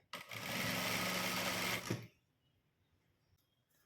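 Sewing machine stitching fabric for sleeves, a loud close burst of fast whirring for about two seconds that stops abruptly, leaving near silence with faint room noise.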